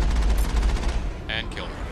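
Gunfire in the Mass Effect video game: a loud, rapid burst of automatic shots with a dense rumble for about a second, then two sharp electronic bleeps, close and loud.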